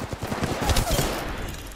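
Rapid Mozambique shotgun blasts in a video game, a dense burst of sharp, loud overlapping shots packed into under two seconds, with no talking.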